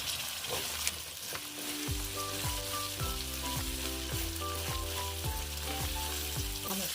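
Green chillies are frying in a fish curry in a pan, giving a steady close sizzle throughout, with a tonal musical background underneath.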